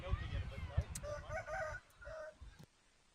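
Roosters crow several times close by, their calls rising and falling over roughly three seconds, heard outdoors behind commentators at a school touch rugby match between TAS and JIS.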